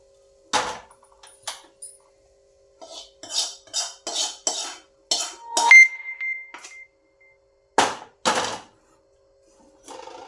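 Metal utensils clink and scrape against a pot and plate in bursts while cooked makhana is moved from the pot onto a plate, with a brief beep partway through and quiet pauses between.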